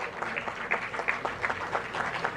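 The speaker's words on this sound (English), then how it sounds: "Let's have a huge round of applause for our esteemed dignitaries here." Applause for dignitaries at a ministerial leaders' dialogue on green and digital maritime corridors: a moderate crowd clapping steadily with irregular hand claps, fairly even in loudness throughout.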